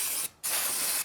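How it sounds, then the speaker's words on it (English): Glass cleaner misted from a pump spray bottle in two quick bursts, a short hiss, a brief gap, then a longer hiss, close and fairly loud with no talking. "I'm just going to spray a little bit of soap on it."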